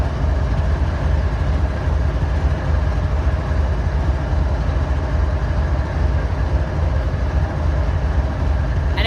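A train sits at a station platform with a steady, loud low rumble of its engine idling and rail cars, unchanging throughout with no talk.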